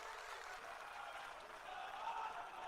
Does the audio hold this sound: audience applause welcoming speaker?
yes